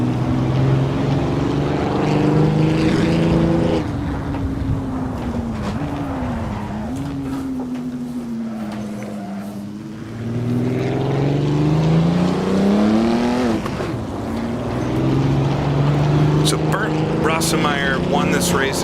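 A 1937 Grand Prix race car in Assetto Corsa, racing at Donington, its engine roaring hard under throttle. The pitch climbs and drops through gear changes and a dip into a corner, then rises again as the throttle reopens, loud and close.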